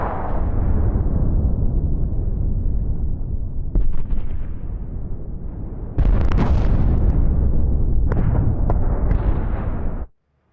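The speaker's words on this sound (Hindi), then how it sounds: "इजराइल की बमबारी में एटमी रिएक्टर तबाह" Explosions from Israeli bombing at Iran's Arak nuclear reactor create a heavy, continuous rumbling roar. A fresh loud blast erupts midway, and sharp pops and cracks ring out before the sound cuts off abruptly.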